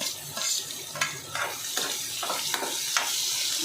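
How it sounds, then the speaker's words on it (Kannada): Onions frying in a pan, a steady loud sizzle with stirring scrapes and a few clicks of a utensil against the pan throughout, no voices. "ಎಲ್ಲ ಸ್ವಲ್ಪ ಫ್ರೈ ಮಾಡ್ಕೊಳ್ಳೋಣ"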